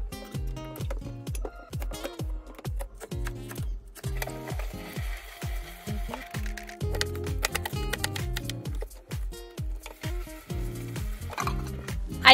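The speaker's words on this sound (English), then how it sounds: "I like to cut everything in bite-sized pieces except for the meat" Vegetables are cut into bite-sized pieces for a Japanese nabe hotpot, with a quick run of crisp knife chops on a cutting board in a steady rhythm, close and clear with short pauses.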